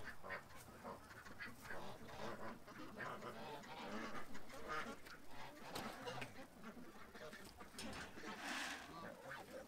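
Ducks quack repeatedly in a noisy outdoor flock, some calls honking like geese, with a person talking intermittently over them.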